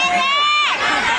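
Crowd at a live show shouting in reply to a host's prompt, a brief loud burst of voices and calls, some high-pitched like children, lasting about a second.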